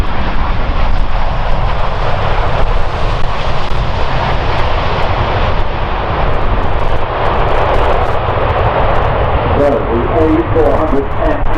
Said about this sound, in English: This is the A400.